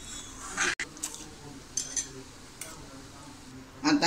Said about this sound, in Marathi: एक उकळी येईपर्यंत त्याला साधारण ढवळत राहायचं आहे.